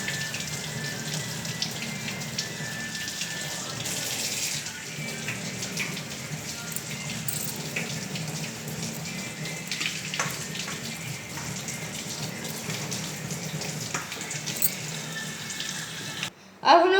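Kitchen tap runs steadily over food being cooled, a continuous hissing splash of water that stays even for most of the stretch before a brief louder clatter at the end.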